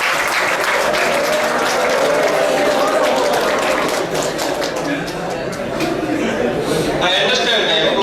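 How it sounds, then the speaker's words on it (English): A crowd at a pyramid meditation talk breaks into loud, sustained applause, dense clapping filling the room throughout, with a voice audible faintly beneath. "Give a big clap for Matt."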